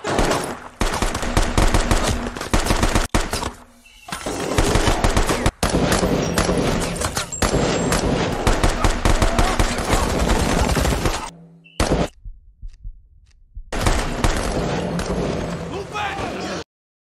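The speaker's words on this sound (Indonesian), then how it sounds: "salah seorang separatis terjebak di bawah rentetan tembakan" Dense gunfire rattles through combat zone footage as separatists come under fire, long bursts of rapid automatic shots with brief pauses, loud and chaotic, with shouting voices mixed in.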